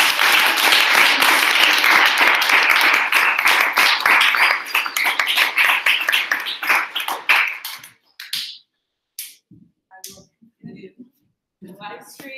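A room of people applauds at the close of React capstone presentations, the dense clapping loud and steady for about eight seconds before thinning to a few scattered claps and brief voices.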